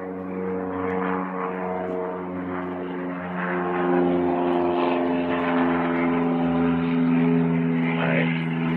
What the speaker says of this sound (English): Got an airplane flying by.